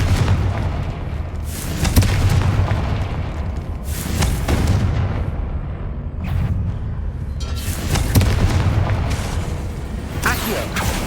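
Repeated Confringo spell blasts smashing statues in the Hogwarts Legacy video game, a series of loud booming explosions with crashing rubble over a continuous rumbling game soundscape.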